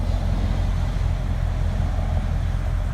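A Mercedes-Benz W210 car with an aftermarket exhaust gives a steady, low engine rumble with a deep exhaust drone, constant and fairly loud throughout, with no voices.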